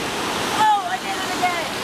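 A river runs by a mountain meadow hiking trail, making a continuous broad rushing and splashing wash, close and steady throughout, with no speech over it.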